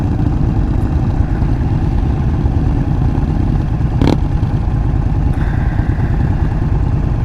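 A 2022 Indian Chief Dark Horse motorcycle engine running while being ridden, a loud, steady low rumble with wind noise throughout and a brief sharp clatter midway.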